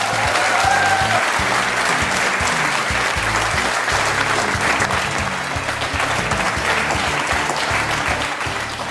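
A studio audience applauds at length as Finance Minister Arun Jaitley is welcomed, loud continuous clapping from many hands with a low rumble of movement underneath, sustained throughout.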